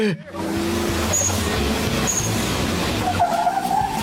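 A race car drifts with its rear wheels sliding at a Doi Chang hill climb in Thailand. The engine roars loud and close under rising tire noise, and a sharp squeal swells near the end.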